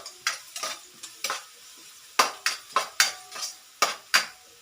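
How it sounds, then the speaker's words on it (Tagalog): Garlic sautéed with golden-browned ginger in a pan for ginataang tilapia, sizzling steadily while a utensil stirs and scrapes in a dozen or so sharp, close strokes, with no talking. "susunod ko nang ilalagay yung ating bawang. Gisa-gisa lang po natin."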